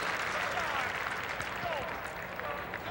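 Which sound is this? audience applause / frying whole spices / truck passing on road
audience applause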